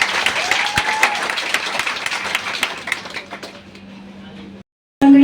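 An audience claps loudly in dense applause through a gathering honouring a society's founder, the clapping thinning out before it cuts off, with brief voices afterward.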